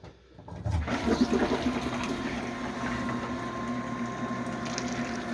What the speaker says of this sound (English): it's now going to pump back up through this system backwards, and we're going to pump for a few minutes